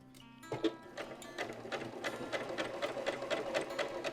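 Close-up sewing machine stitching along the edge of a fabric headband, starting after a brief quiet moment and running in a fast, regular rhythm of needle strokes.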